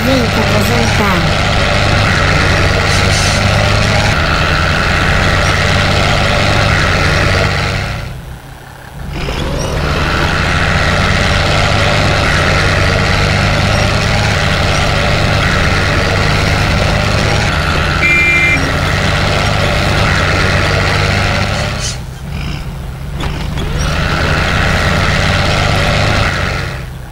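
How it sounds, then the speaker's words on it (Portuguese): A Chevrolet Silverado pickup in the SnowRunner video game runs its engine steadily, a continuous loud low rumble that cuts out briefly twice, with game noise and people talking over it. "Essa Silverado tá ligando."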